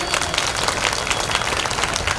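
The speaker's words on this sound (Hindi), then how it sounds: "जोरदार तालियों के साथ में प्रेम चाहिए" Loud, dense applause from the audience at a Hindu religious katha gathering, many hands clapping continuously and close for a couple of seconds with no talk over it.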